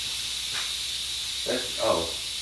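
A steady air compressor hiss runs throughout a workshop, with a couple of short, louder bursts of escaping air near the end.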